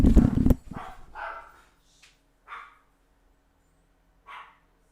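Dogs bark indoors: a loud burst of barking at the start, then a few sharper, scattered yips and barks fading out with quiet gaps between them.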